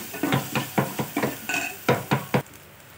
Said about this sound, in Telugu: తర్వాత పసుపు ఒక సగం స్పూన్ వేసుకొని ఒకసారి కలిపేసుకోవాలి